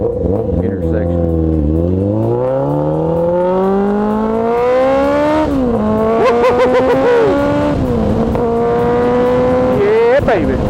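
An entry-level motorcycle rides through an intersection, its engine note climbing steadily through the gears with rising harmonic whine, a brief dip at each shift, continuous and close throughout.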